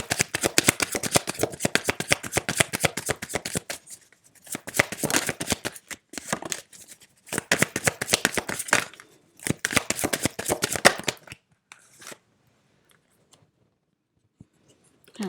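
Tarot cards are shuffled in quick crisp bursts of riffling and flicking, close and clear, with short pauses between rounds and a few softer taps as cards are drawn before it falls quiet.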